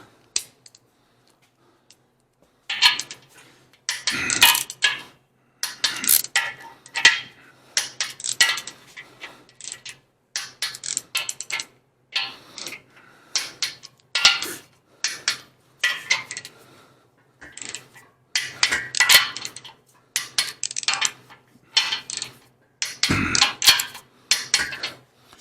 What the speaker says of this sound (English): And we're going to torque them to spec.